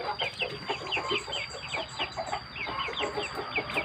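Thai fighting rooster, a two-month-old cross of Kriangkrai and Dam Jao Kao lines, giving rapid repeated clucks and calls at a moderate distance, a busy rhythmic patter of short bird sounds against a faint steady background whine.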